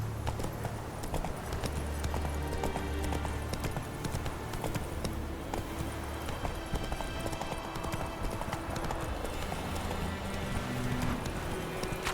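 Horse hooves gallop in a rapid, steady clip-clop in The Witcher 3 video game, continuous and moderately quiet beneath game ambience.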